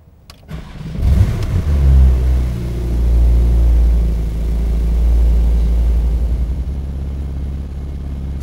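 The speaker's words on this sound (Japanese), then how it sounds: "ではエンジン始動していきます。" A 2016 Porsche 911 Turbo (Type 991) with PDK cranks briefly, then fires into a loud close revving flare that settles into a steady, deep, droning idle.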